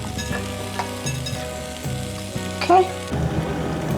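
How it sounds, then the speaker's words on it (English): Apples boiling in a pot while apple pie filling is being made, giving a steady bubbling sizzle throughout with a melodic backdrop and one brief spoken word. "we have the apple in the pot and it's boiling right now"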